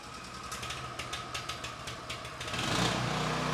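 A Blackstone 2-in-1 push-button start generator runs at a quiet idle with faint rhythmic mechanical ticking, then a louder broad rush of noise swells in near the end.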